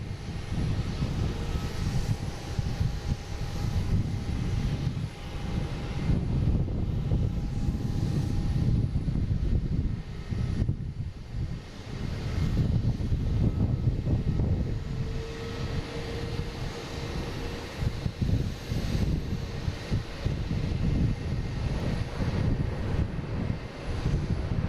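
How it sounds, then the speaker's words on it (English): A United Airlines airliner comes in to land from LAX, a sustained low jet rumble and roar that stays steady and fairly loud throughout, dipping briefly midway, with no talk. "Next coming in, we have United Airlines coming from LAX."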